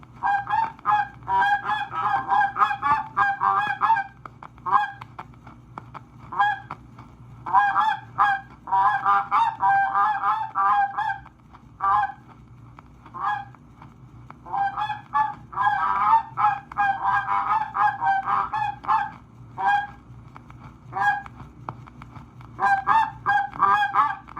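A goose call blown in repeated bursts of honking, imitating a flock of geese, loud and close with short pauses between series.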